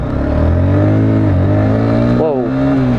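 A motorbike engine revving hard and close, its whine climbing steadily, then dipping and wavering for a moment as the clutch is let out too early before pulling on again.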